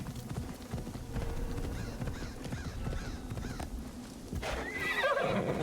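A horse in the video game Assassin's Creed Shadows gives a loud whinny over the clatter of hooves, with a steady rumble of game ambience underneath.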